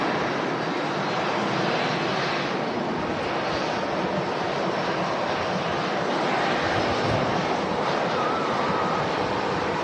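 A Ryanair Boeing 737 jet takes off at Manchester Airport in strong wind, its engines a loud, steady, broadband roar that holds for the whole stretch, mixed with gusting wind noise.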